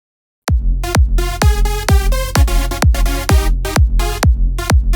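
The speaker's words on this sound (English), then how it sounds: "I played it with the kick drum and it actually sounded quite good" Trance synth chord stabs layered over a punchy kick drum, with a steady thumping beat under bright, choppy chords, loud and continuous after a brief silent start.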